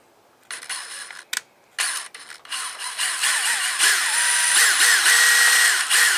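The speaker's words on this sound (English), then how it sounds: "Alright, I got both holes drilled in this one." A power drill with a 1/4 inch bit boring holes through a light mount, with a bursts-and-pauses start that builds into a sustained, loud, pitch-wavering whine, alone with no talk.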